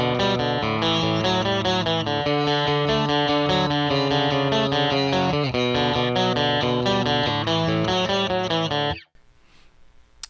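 An electric guitar plays a clean lead line through a Quad Cortex, sustained bright notes ringing steadily for about nine seconds before stopping abruptly, leaving faint residual noise.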